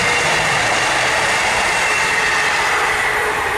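A train crossing beside the Bennerley Viaduct, an iron railway bridge, gives a steady, loud, close rumble and roar of rail wagons that holds without letup from start to end, with no voices.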